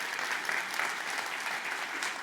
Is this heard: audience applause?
yes